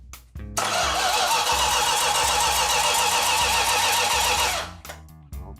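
A 1969 Dodge Super Bee 440 Six Pack engine cranks on the starter and catches into a loud, steady roar for several seconds before cutting off abruptly, close to the microphone with no talk.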